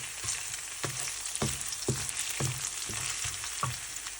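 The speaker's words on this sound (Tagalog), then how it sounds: "So stir the ginger" Ginger stir-fried in a pan: a soft continuous sizzle broken by regular scraping strokes of a utensil, about eight in four seconds, with no speech.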